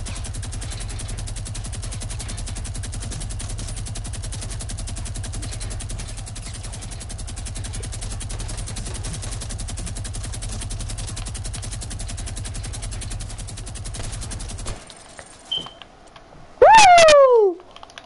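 Minigun in a PS4 video game spinning up and firing a long, continuous rapid stream of shots for about fifteen seconds, loud and close, then cutting off before brief sharp effects.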